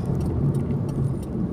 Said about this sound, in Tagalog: Marami pong sasakyan ngayon